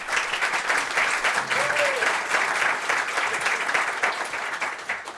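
An audience at a French charity event applauds the co-presidents with sustained, dense clapping that fills the whole stretch at a steady level.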